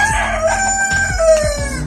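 Roosters crow loudly and close by on a poultry farm, drawn-out calls overlapping with hens clucking and a series of low rhythmic thumps underneath.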